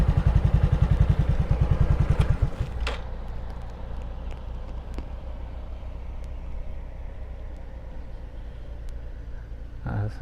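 A farm tractor's heavy diesel engine chugs loudly for a couple of seconds as it drives past, then fades into a low distant rumble with faint outdoor noise.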